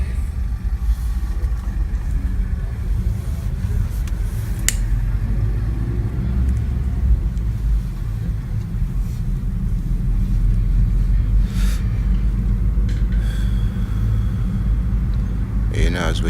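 A car drives through London streets, its steady engine rumble and road noise filling the cabin continuously, with occasional faint clicks and knocks inside the car.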